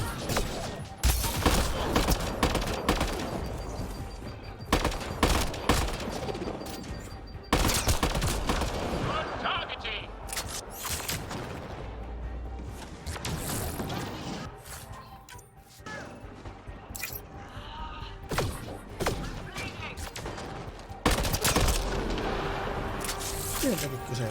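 Gunfire in a jungle firefight in Mass Effect Andromeda: repeated bursts and sharp shots come in clusters, with crashing impacts, while voices talk over the combat throughout.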